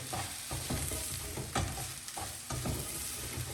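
Shredded cabbage for a shawarma filling is stirred and tossed in a bowl, making a dense, continuous rustle with repeated scraping strokes, loud and close.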